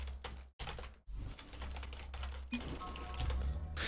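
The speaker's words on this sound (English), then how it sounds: "I want to continue typing!" Rapid keystrokes on a computer keyboard clatter close and continuously for several seconds, with brief pauses between bursts and a low hum underneath.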